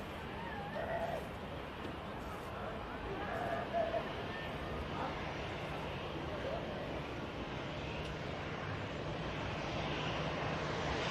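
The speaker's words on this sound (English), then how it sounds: "Looks like the Virgin Atlantic is on the taxi out for Atlanta" A Virgin Atlantic airliner bound for Atlanta taxis out at an airport, its engines a steady broad distant rumble and whine, with faint talk over it.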